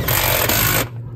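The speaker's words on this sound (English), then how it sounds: "It's not like the fastest impact or nothing like that, but it has a lot of torque." A Flex 24V compact impact driver drives lap screws in a loud, close burst of rapid hammering that runs for under a second, then cuts off.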